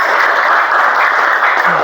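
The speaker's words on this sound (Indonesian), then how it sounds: "tepuk tangan sekali lagi untuk semua kelompok" Classroom applause for all student groups, a dense, steady burst of many hands clapping at once, loud and close, lasting under two seconds.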